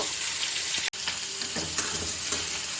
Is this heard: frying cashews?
yes